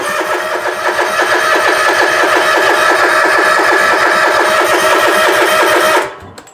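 A Bobcat zero-turn mower engine cranks without catching: a loud, steady, rapid chugging of the starter that churns for about six seconds, then cuts off abruptly into near silence.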